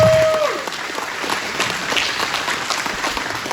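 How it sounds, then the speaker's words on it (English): Crowd applause at a political rally, loud at first and holding as a steady dense clapping wash, with a brief whistle at the start. "So let's give them a big old round of applause there."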